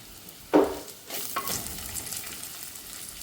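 Crushed shallots dropped into hot oil in a pan for a Kerala-style Ayala fish curry: a sudden loud sizzle burst, then steady frying crackle with stirring scrapes, close up and with no talking.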